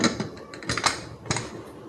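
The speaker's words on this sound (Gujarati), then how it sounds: "હવે આપણે કુકરનું ઢાંકણું બંધ કરી દઈશું" A pressure cooker lid is shut over dal, rice and ridge gourd for khichdi, giving a few close metallic clicks and clunks over about two seconds with no talking.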